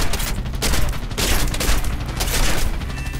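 Nose-mounted .50 caliber machine guns on a US strike aircraft fire in a sustained roaring burst in a combat flight game, dense and continuous with rolling surges, no talking.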